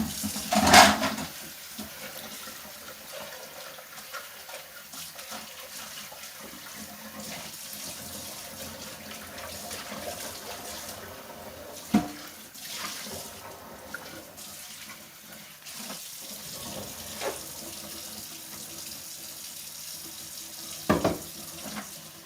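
Water runs from a kitchen sink tap while a container is rinsed, a steady hiss of flow with occasional knocks and splashes, close by, without talk.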